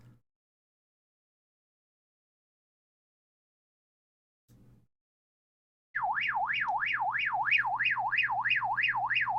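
A BaoFeng handheld radio's alarm wails loud and close, a rapid warbling siren tone rising and falling in steady cycles, starting abruptly after near silence and a couple of short low blips.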